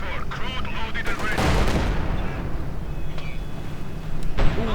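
Tank cannon fire and explosions from Company of Heroes 2 erupt in loud, dense bursts, with a big blast near the middle and sharp impacts toward the end, over constant battle rumble.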